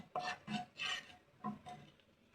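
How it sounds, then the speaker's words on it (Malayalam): A utensil stirs salt and turmeric through a cooking pan in a few rhythmic scraping strokes, close and fairly quiet, with short gaps between passes. "ഒന്ന് ഇളക്കി കൊടുക്കാം"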